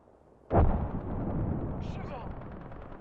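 A single sharp, booming gunshot in a video game fires up close, then trails into a long, rumbling echo with faint background effects.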